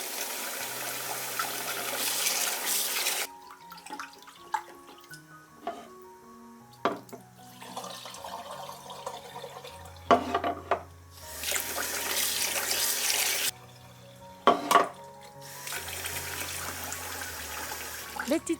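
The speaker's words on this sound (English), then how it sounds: "The day before, wash 400 grams of sticky rice 3 times." Sticky rice, 400 grams, being washed in water, with bursts of running tap water and sloshing alternating with quieter handling sounds, fairly close and clear with no talk.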